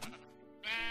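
A sheep bleats in the video game Minecraft, giving a loud, wavering bleat that rises into a brighter, sustained cry, heard alone and up close.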